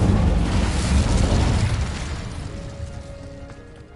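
Incendio fire spell cast in Hogwarts Legacy, a loud fiery whoosh and burst that dies away over a few seconds, leaving faint magical chimes as it fades, with no voices.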